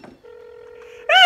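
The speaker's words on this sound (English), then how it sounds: "Just make your phone call." A telephone number being dialed for a call: after a brief soft noise, a single steady dial tone holds for nearly a second, then a loud burst of warbling tones cuts in at the end, close and clear.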